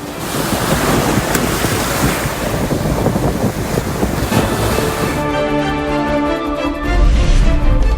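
Rough sea waves crash and surge at the Pamban coast, where a stormy sea damaged boats, with heavy wind buffeting the microphone before a tonal musical sound takes over near the end.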